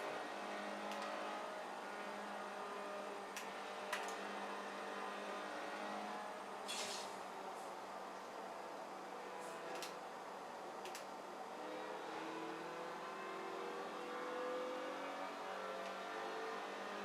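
Engine note of a Mako Shark car in Forza Horizon 4, a steady droning rev that holds fairly constant throughout, with faint ticking clicks scattered over it.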